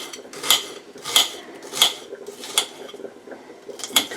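A knife chops an onion wedge finely on a board, with about six sharp, evenly spaced strikes at a close distance. The chopping is crisp and fairly loud, and no one speaks.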